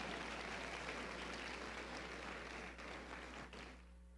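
A church congregation applauds together, a faint, dense wash of clapping that holds steady and then tapers off over a few seconds, heard from a distance.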